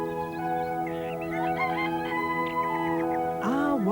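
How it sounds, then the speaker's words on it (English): Rooster crowing in the early morning at a vineyard in Marlborough, New Zealand, a loud call near the end with birdsong chirping throughout against a steady tonal background. "Early morning in a vineyard. Luscious grapes ripening in the sun, a rooster's rousing call and birdsong rising on the breeze."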